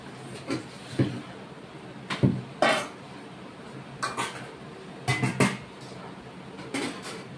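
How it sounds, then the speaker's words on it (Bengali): Fried eggs go into a pan of simmering egg masala in a home kitchen, heard as a series of light clanks and scrapes of utensil against the pan, spaced irregularly over a quiet background. "এবার ভেজে রাখা ডিমগুলো আমি দিয়ে দিচ্ছি"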